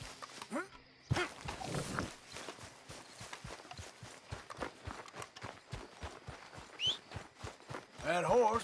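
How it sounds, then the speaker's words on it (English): Horse hooves in Red Dead Redemption 2 beat a steady, rhythmic clip-clop at a brisk gait, close and moderately loud, with rustling movement and a brief animal vocal sound near the end. "That horse don't listen."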